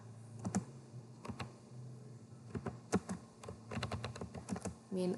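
A computer keyboard clatters as a MySQL command is typed into a command prompt, with quick bursts of close, crisp keystrokes, brief pauses between them and a heavier key press at the very end.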